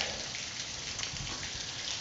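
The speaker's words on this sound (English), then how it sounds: "A little quieter without the rain beating our umbrella" Rain falls steadily outside a new home in Cape Coral, Florida, making a dense, even hiss with no breaks, fairly loud and close, with nobody speaking.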